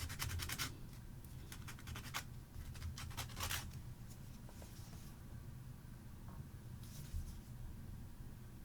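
A paper stump rubs over colored pencil on paper, giving quiet, repeated scratchy strokes in short bursts with pauses, close and soft.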